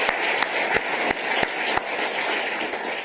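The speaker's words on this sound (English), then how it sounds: "More clapping for Uncle Tony Garvey." Audience at a Reconciliation Week oration in Melbourne applauds Uncle Tony Garvey, a dense bed of clapping with a few louder nearby claps standing out at regular intervals.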